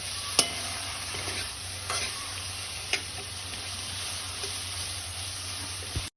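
Steady sizzling of a tempering in hot oil with coriander leaves and peanuts added, with a few sharp clicks from a spoon against the pan; no voices.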